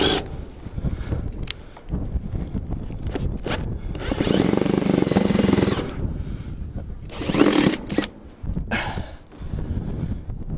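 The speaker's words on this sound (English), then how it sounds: "What's wrong with this bloody drill today?" A power drill that is acting up whirs in short bursts with pauses between, one longer steady run in the middle, close by with clattering handling noise, during a repair on a feed bin.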